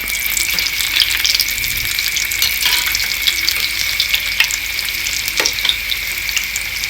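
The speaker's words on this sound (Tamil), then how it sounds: "திருப்பி போட்டு ஒரு 5 நிமிஷம் வெந்த பிறகு அந்த எண்ணெய் படபடன்னு நுறையா வருது பாருங்கள்" Radish masala vada fry in bubbling oil with a dense, steady sizzle and crackle, broken by occasional small pops, heard close and alone with no talk.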